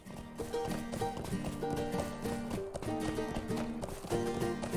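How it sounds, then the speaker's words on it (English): A horse gallops in the fantasy video game Lord of the Rings Online, its rhythmic clip-clop hoofbeats repeating quickly over layered game music, loud and continuous. "He is the air speedy horse"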